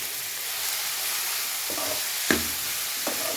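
Cabbage, capsicum and carrot stir-fry for veg noodles with a constant, even sizzle. A couple of brief spatula clinks against the pan break through, with no one speaking.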